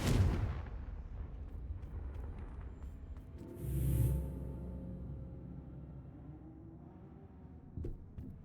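Confringo spell explosion in a Harry Potter video game, a booming blast with a rumbling low tail that swells midway and fades, no voices.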